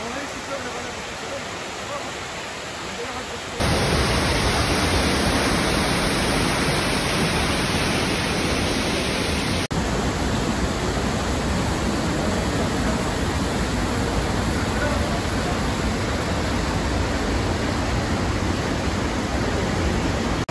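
An underground river in a Cévennes cave after heavy rain, seen from about 20 metres above, makes a loud, continuous broadband rush that grows stronger after a few seconds and holds steady, with no voices heard.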